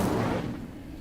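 An Incendio fire spell bursts in Hogwarts Legacy, a short whooshing, roaring blast of flame that starts loud and fades over about a second.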